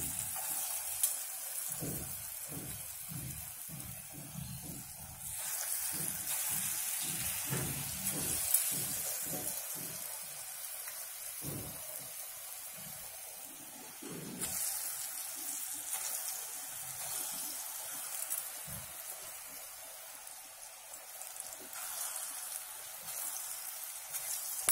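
Oil in a kadai sizzles steadily as chana dal pakoras fry, a constant crackling hiss with soft bubbling and occasional stirring knocks underneath, heard alone at moderate level.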